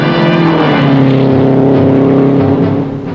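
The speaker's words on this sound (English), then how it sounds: "the two hottest cars on the track get up to speed" Two 1960 Indianapolis 500 race cars roar at near top speed, a loud, sustained high-pitched engine drone with shifting pitch as they run wheel to wheel on the track.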